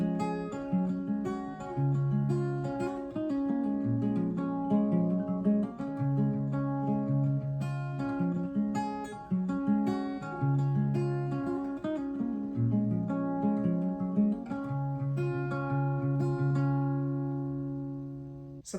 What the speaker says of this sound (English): So that's how you're going to play the intro.